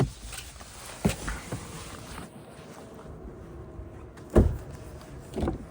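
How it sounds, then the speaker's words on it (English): Two solid thuds of a 2025 Volvo EX30 car door closing, one just after the first second and a louder one later, over a faint windy hiss. "Doors shut nice and solid."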